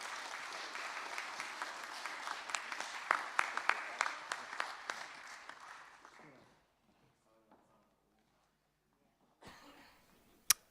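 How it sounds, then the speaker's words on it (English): Indoor audience at a young pipers' light music competition clapping for the prize winners, a dense crackling round of applause that fades out midway, followed by near silence and a short final burst. "Another big round of applause for our prize winners"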